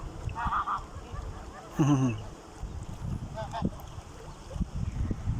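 Several loud, honking calls from long-legged birds ring out in a short burst near the middle, with quieter calls earlier and later over steady outdoor rumble, in Qatar.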